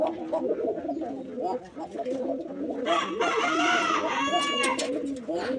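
A male Bombai pigeon coos inside a loft, low repeated throaty coos running under a voice, with other birds calling in the background.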